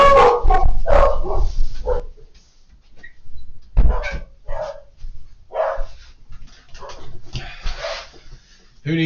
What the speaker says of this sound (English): Who needs a doorbell when you've got a dog?